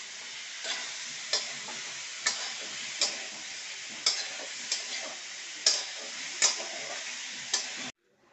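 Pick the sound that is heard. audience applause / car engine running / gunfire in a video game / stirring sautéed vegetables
stirring sautéed vegetables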